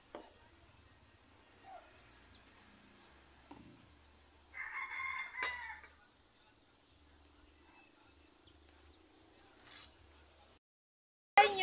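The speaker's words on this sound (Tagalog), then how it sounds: "Ayan yung alagang itik at saka mga manok." Rooster crowing once at moderate distance on a rural farm where ducks and chickens are kept, a short burst amid quiet outdoor background with faint scattered bird and animal sounds.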